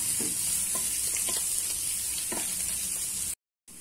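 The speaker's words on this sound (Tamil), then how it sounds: "ஒரு சின்ன சைஸ் பெரிய வெங்காயம் இதை நல்லா வதக்கிக்கலாம்" Large onion sautés in a pan with a steady, moderate sizzle and occasional light spatula stirs, cutting out abruptly near the end.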